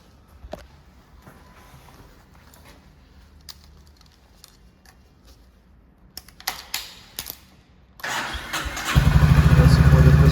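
A motorcycle engine is cranked and catches, a few clicks and starter whirrs before it fires into a loud, steady idle right up close.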